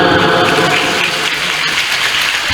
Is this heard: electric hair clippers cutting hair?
no